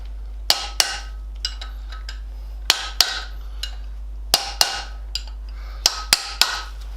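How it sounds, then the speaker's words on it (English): Sharp metal taps of a chisel being struck around a stuck old wheel bearing race on a Classic Mini, about a dozen close, loud knocks in irregular pairs and singles over a steady low hum, with no talking. "And then I can use my chisel to lightly go round."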